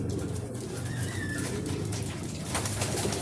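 Pigeons coo softly and repeatedly while feeding outdoors during an afternoon toss in Pampanga, layered over a steady background hum with faint rustling.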